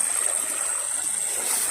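Water flowing through a newly dug drainage ditch on an abandoned oil palm plantation plot, a steady close rushing and trickling wash, loud and continuous with no voices.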